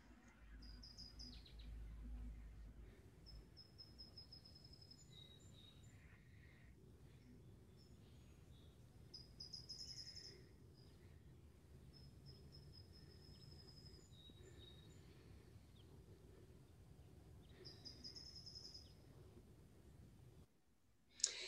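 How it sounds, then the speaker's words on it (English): Birds that have returned to a fire-burned area of Chino Hills State Park, now regrowing green vegetation, sing with faint, high, scattered chirps and short trills over quiet background hiss and insect-like clicks. "hopefully you were able to hear the birds who moved back into the area just a couple months after the fire"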